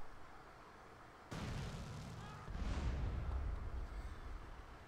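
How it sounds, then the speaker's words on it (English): Rocket explosions blowing up cars in the video game Grand Theft Auto: San Andreas, heard as two sudden loud blasts about a second apart, each followed by a sustained low rumbling roar. "rocket launchers work well if you can aim these rockets to blow up these cars easily"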